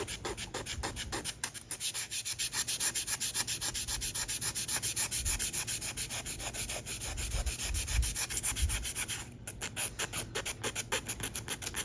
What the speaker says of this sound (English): Let me keep sanding and I'll come back with you.